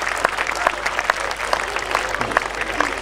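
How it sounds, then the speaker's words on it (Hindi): An audience applauds at a Hindi poetry gathering (kavi sammelan), giving moderate, somewhat sparse clapping with distinct individual claps standing out from the crowd murmur. "पत्नियां ठीक तालियां बजा रही, पुरुष थोड़े गंभीर"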